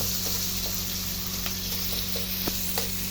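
Minced garlic and onions frying in a pan, a steady hiss of sizzling oil with a few soft clicks of stirring, close and continuous with no talking.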